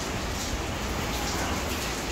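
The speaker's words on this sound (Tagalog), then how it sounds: "lumakas na yung ulan" Steady rain pours down on an outdoor resort construction site in a dense, even hiss with no breaks, close and fairly loud throughout.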